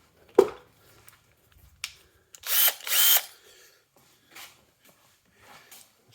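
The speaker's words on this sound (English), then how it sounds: "Let's take a de-rusting bit." A power drill fitted with a de-rusting bit whirs in two short bursts, close and loud, with a few sharp clicks and taps before and after.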